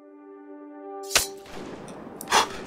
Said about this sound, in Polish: Co to za strzał?